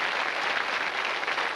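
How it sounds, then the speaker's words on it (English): A studio audience on a quiz show claps and cheers steadily to welcome the contestants, with dense, continuous applause throughout. "let's give them a welcoming cheer."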